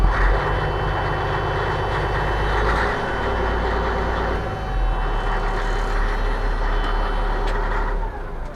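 An old-school winch tractor truck idles through a straight-pipe exhaust with no engine brake, giving a loud, steady, close diesel rumble that barely changes throughout.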